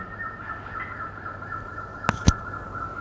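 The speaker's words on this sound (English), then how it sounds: "So bushy-crested hornbills." Played-back call of bushy-crested hornbills in forest: a sustained, reedy, nasal tone runs steadily throughout at moderate volume, interrupted near the end by two sharp clicks.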